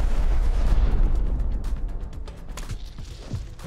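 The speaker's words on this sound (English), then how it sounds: "Oh, shotgun trap." A shotgun trap goes off in the survival game Rust, a loud booming blast with rumbling low-end that rolls on and fades over a few seconds, followed by scattered clunks and small impacts.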